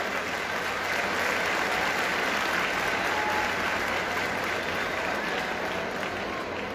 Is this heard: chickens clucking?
no